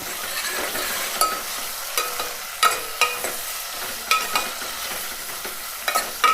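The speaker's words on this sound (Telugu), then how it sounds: "టమాటా, పచ్చిమిర్చి అన్నీ వేసుకొని మంచిగా వేయించుకోవాలి" Tomatoes and green chilies frying in oil for a mango dal curry, a steady close sizzle with repeated scraping stirs of a spoon against the pan, no talk.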